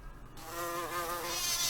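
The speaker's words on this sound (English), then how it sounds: "Oh, this is bees." A steady buzz of bees starts after a brief quiet moment and holds close and fairly loud, droning with a slightly wavering pitch.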